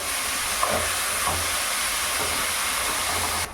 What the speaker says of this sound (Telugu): ఉడికించి పెట్టుకున్న క్యాలీఫ్లవర్ ముక్కలను అయితే వేసుకోవాలి ఈ విధంగా కలుపుకుంటూ మనం ఫ్రై చేసుకుందాం